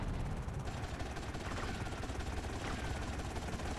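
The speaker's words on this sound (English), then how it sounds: "Oh my god, they've got a helicopter!" A helicopter in Grand Theft Auto: Vice City drones steadily and loudly, a constant broadband rotor and engine roar filling the whole stretch with faint other game sounds mixed in.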